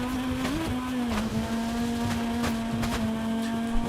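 Car driven in the Forza Horizon 5 racing game, a steady engine drone holding one pitch with a brief rise, continuous and fairly loud with no voices.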